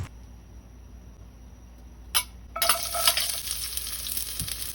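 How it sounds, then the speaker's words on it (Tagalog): Garlic hits hot oil in a pan (kawali) after a quiet moment, breaking into a loud, steady crackling sizzle that continues to the end. "At igisa natin ang bawang hanggang sa pumula."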